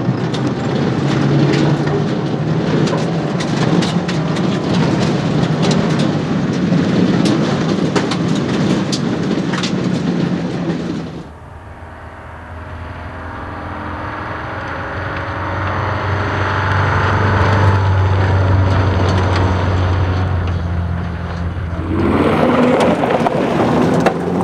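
Renault 12 Gordini rally car driven hard at speed, a steady loud roar of engine and road noise that drops for a stretch to a lower rumble with a humming tone, then swells again.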